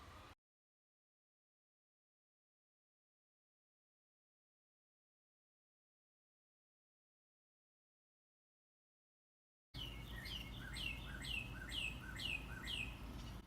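A bird chirps in a quick run of loud, close, repeated calls that start abruptly after a long stretch of near silence.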